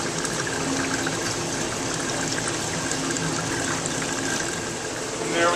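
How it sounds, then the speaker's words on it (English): Two aquarium pumps at Birch Aquarium at Scripps shoot water into a wolf-eel egg mass, making a steady, close rush of churning water that runs unbroken for several seconds and swells slightly at the end. "water from both pumps on either side that's shooting into the eggs"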